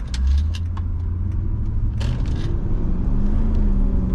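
A 1998 Mercedes-Benz CLK 5.8 Brabus drives along, its engine giving a loud steady low rumble heard from inside the car, with a few light rattles and clicks, and no talk.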